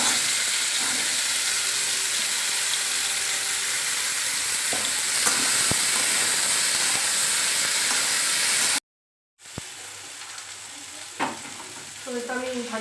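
Panch phoron and a few dry red chillies fry in a pan, a loud continuous hiss and sizzle with occasional stirring knocks, cut by a short silence near the end.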